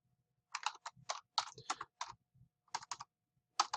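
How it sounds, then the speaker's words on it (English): Computer keyboard typing at a desk, a series of crisp key clicks in short irregular bursts with brief pauses between them, fairly close and alone with no talk over it. "And I'm going to type in,"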